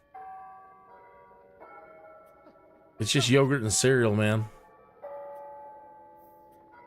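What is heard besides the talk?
church bells ringing in the video game Sims 4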